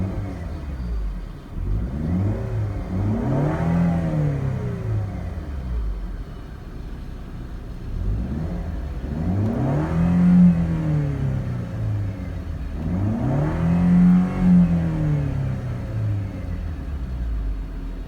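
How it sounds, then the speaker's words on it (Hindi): A 2012 Mercedes SLK engine revved three times from idle, each rev swelling smoothly in pitch and loudness before falling back to a steady low rumble, close and with no talking. "वाह, आवाज़ ही बहुत मज़े की है इस गाड़ी की।"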